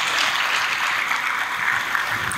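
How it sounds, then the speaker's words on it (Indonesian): A university residence open-house audience of new students applauds, a steady dense wash of clapping throughout with no pauses. "Tepuk tangan untuk kalian semua."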